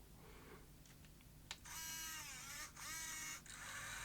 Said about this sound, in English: You hear the extra motor step as it moves that magnet across.